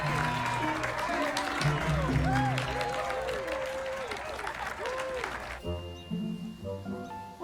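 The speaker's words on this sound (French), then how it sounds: "On vous applaudit." Crowd applause and cheering following a singing performance in a French-dubbed vampire TV series, dense and lively under sung or spoken voices, thinning out after about six seconds as a voice continues alone.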